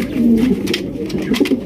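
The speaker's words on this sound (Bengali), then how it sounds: "নরের ডাকটা দেখেন কি অ্যাগ্রেসিভ" A male Barhuma pigeon coos close by in a deep, throaty, rolling rhythm, several aggressive low calls running continuously with no talk over them.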